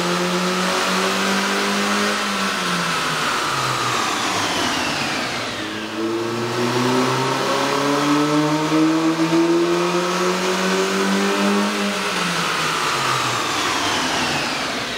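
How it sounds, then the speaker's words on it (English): A Mazda 3 2.0L engine fitted with a K&N air intake revs up twice, each sweep climbing in pitch then dropping back, a loud close mechanical roar with an airy intake whoosh and no talk. "You can really see and hear the difference the KNN air intake system will make to your car."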